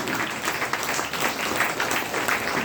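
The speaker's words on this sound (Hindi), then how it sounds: "एक ताली मार सकते हैं?" Audience applause at a health training program in Bhagwanpur, dense and continuous clapping from many hands at steady loudness, with faint voices mixed in.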